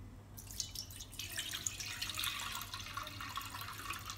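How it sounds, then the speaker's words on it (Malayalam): Milk pours into a thick, heavy cooking pot (uruli) with a quiet, steady trickling and splashing stream, low in level and continuous throughout. "ഇതിനകത്തേക്ക് നമുക്ക് ഈ പാലിങ്ങനെ ഒഴിച്ചു കൊടുക്കാം."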